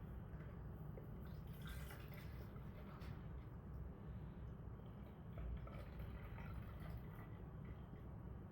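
Liquid detergent pours into the tank of a Dreame L30s Ultra robot vacuum, a soft, close, continuous trickle and drip over several seconds.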